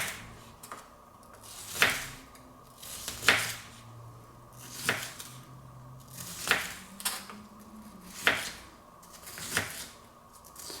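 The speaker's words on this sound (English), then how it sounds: "then cut this into very thin slices" A knife slices a vegetable into thin pieces on a board, the blade striking in a steady rhythm roughly every one to one and a half seconds, each chop a crisp, close tap over quiet background.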